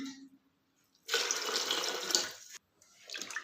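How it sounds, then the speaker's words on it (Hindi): Water splashes and sloshes as wheat grains are rinsed in a container, a steady watery rush broken by a short pause, then more stirring splashes, close by. "गेहूं को हम एक बार साफ पानी से धो लेंगे"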